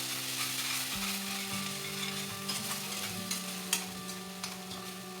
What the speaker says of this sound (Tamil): வெங்காயம் வதங்கினதும் அரைச்ச மசாலா தேவையான அளவு உப்பு சேர்த்து வதக்கிக்கலாம்.